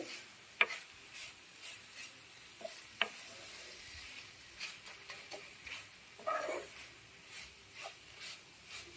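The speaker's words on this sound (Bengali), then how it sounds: "সমানে নেড়ে নেড়ে তৈরি করে নিতে হবে যাতে পোড়া না লেগে যায়" Coconut and sugar mixture for naru stirred in a pan over low heat, quiet soft scraping strokes in an uneven rhythm with a faint sizzle underneath and a couple of sharper knocks.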